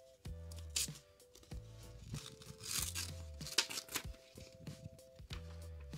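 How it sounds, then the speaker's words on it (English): Packing tape being ripped off a parcel of art prints, close and loud, with a series of short scratchy tearing pulls and no talking. "How is it taped? Okay. Let's just rip this off."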